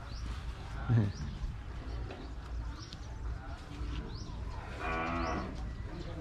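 Lamphun cows low at an outdoor cattle and buffalo market, with several moos, one deep and drawn out near the end, over a busy background murmur of the crowd.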